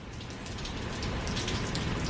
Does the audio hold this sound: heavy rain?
yes